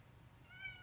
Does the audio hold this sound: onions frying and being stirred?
no